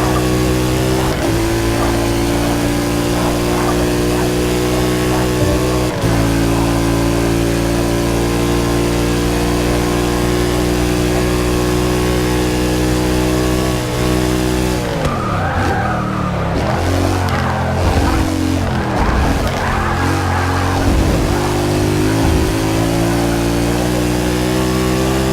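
Mercedes, BMW and Porsche race cars at speed, their engines a loud, steady droning roar that holds throughout, with the pitch wavering and shifting as the cars jostle and change gears partway through.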